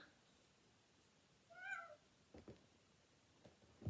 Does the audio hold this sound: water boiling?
no